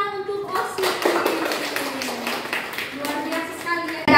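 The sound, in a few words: applause for the student council (OSIS)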